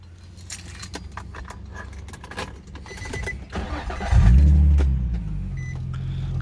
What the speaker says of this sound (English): now I'll go ahead and crank it up